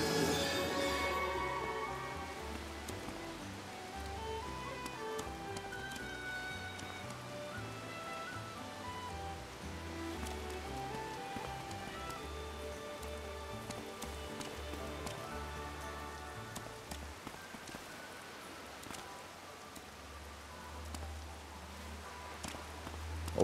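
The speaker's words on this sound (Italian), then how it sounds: "Proviamo a mettere la pioggia qui." Steady rain falls in the Atelier Sophie 2 video game, a continuous patter and hiss of drops that runs for the whole stretch, layered with a soft musical backdrop.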